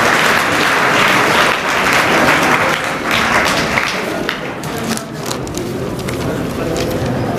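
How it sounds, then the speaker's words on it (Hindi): Dense, continuous applause from an audience at a school admission festival and prize-giving ceremony, loud and steady throughout with a few sharper individual claps standing out. "तालियां भाई, बहुत अच्छे।"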